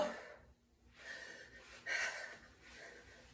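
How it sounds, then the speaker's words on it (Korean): Breathing in and out during a guided exercise routine: a few soft, airy breaths, fairly close and quiet, with pauses between inhales and exhales and no talk. "내쉬고 들이쉬고 내쉬고 들이쉬고"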